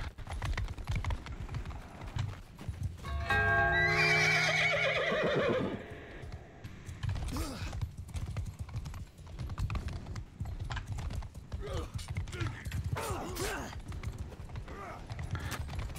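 Horse hooves clip-clop and a horse neighs loudly in the medieval combat game Mount & Blade II: Bannerlord multiplayer. A long whinny comes early, and a continuous trot with clattering battle noise follows.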